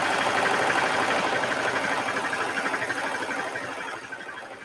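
Sewing machine stitching the bottom edge of a dress sleeve, a continuous close mechanical whir with a fast steady rattle, slowing and softening slightly toward the end, with no talk.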